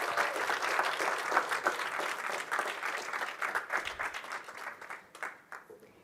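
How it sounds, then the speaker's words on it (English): Applause from a group, dense clapping that holds steady and then gradually thins out toward the end. "I want to call up Erin Hogan and Mac Hodges for a round of applause."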